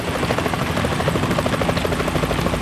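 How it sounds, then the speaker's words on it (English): A helicopter from the video game Metal Gear Solid 2 thrums steadily, its rotor chop pulsing in a loud, continuous rhythm that fills the whole stretch. "Is that a chopper I just heard?"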